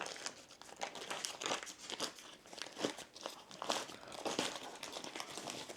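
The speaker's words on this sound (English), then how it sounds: "And I guess I'll take off this little piece of paper." Paper is peeled off a loaf of bread, giving faint close-up crinkling and tearing rustles in irregular bursts, with no talking.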